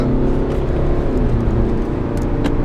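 A BMW X1 2.0 diesel engine hums and revs steadily with a low, throaty drone, loud and continuous throughout.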